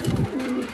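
A male racing pigeon gives a short, soft cooing call, a brief low throaty coo close by with nothing else over it.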